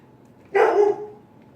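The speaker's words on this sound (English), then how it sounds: "Pardon the dogs. They're a little barky today for some reason." One short dog bark rings out once, fairly clear but not very close, with quiet before and after.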